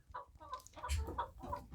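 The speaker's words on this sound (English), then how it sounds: "Now, this hen is here a lot." Hen clucking softly from a nesting box in a barn, a run of low, uneven murmuring clucks close by and fairly quiet.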